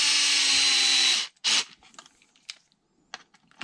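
A power drill countersinking a screw hole whines loudly at close range for just over a second, then gives a brief second burst, followed by scattered light clicks and handling taps.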